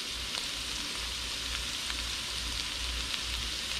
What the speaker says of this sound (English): Fry them in the pan.